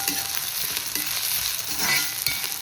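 Ginger sizzling and frying steadily in a pan over a low flame, a continuous close crackle with light stirring scrapes throughout and no voices.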